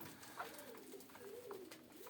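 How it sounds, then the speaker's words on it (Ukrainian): Pigeons coo softly in a loft, a low wavering call repeating under steady background noise. "Самка там на голубенятках."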